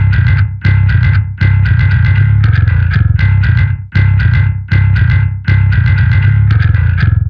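Kalium virtual bass tuned to drop F, heavily distorted and clipped, playing a loud chugging riff of repeated short palm-muted bursts separated by brief gaps, with no voices.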